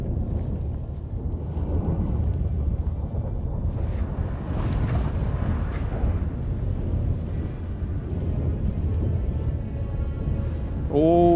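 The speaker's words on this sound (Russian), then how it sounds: "Что там? Шторм?" A storm in The Witcher 3 video game roars as a low, rumbling wash of wind, rain and thunder, loud and steady throughout, with a brief tonal chime near the end.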